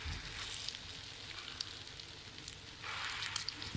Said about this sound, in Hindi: ये देखें जी, हमारी शामी बड़ी ज़बरदस्त सी फ्राई हो रही हैं।